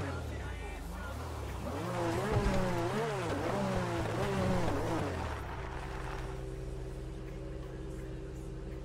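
Modded Lamborghini Huracán Performante engine in the FiveM game, revving loud and close with rising and falling pitch sweeps, then settling into a steady idle hum.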